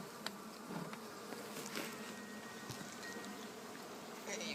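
Bees buzzing inside a top bar hive while capping comb, a faint, steady, close swarm drone with occasional individual bees passing near, no talk.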